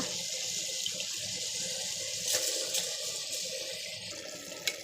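Water is poured from a glass into cooked masala and rice for tomato bath, a steady running, splashing trickle heard close up, continuous and alone with no talking.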